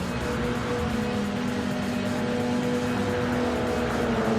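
Race cars roar around Daytona Speedway in Gran Turismo 7 as one car overtakes another, a loud steady engine drone with a sustained pitch holding throughout, no voices.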